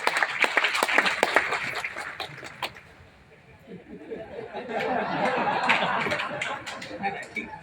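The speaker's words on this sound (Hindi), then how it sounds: "सर के लिए ताली बजाओ" An audience applauds a man who raised his hand, a burst of clapping and chatter near the start that fades, then renewed crowd murmur and scattered claps later, with talk mixed in.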